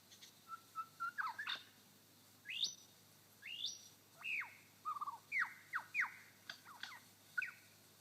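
A lyrebird mimics a grey thrush with a lively series of rich, varied whistles and warbled phrases, about a dozen quick notes in irregular rhythm, clear and fairly close against a quiet forest background.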